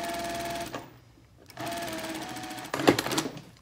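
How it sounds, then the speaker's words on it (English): A sewing machine stitches a fabric face mask in two steady runs broken by a short pause, then a louder clatter of the needle and fabric being handled at the end, close and clear with no talk. "you're gonna stitch it down at 1/2 inch"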